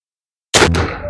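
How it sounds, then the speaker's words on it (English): A single sharp, loud gunshot is fired at a pumpkin target with a Natechrony setup, cutting in abruptly after silence and leaving a short ringing decay, with no voices. "Shooting a pumpkin down there."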